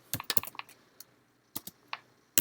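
Keys clicking on a computer keyboard while HTML code is typed, a quick cluster of close taps followed by sparse, irregular single strokes with short pauses, no voice.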